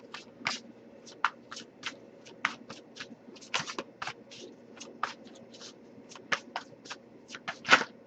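Crisp, quick riffling snaps of tarot and oracle cards being shuffled in irregular bursts, close up, over a low steady background hum.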